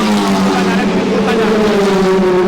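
Race car passing at the 24 Hours of Barcelona circuit, a loud sustained engine drone with rising pitch, near and continuous, with voices in the background.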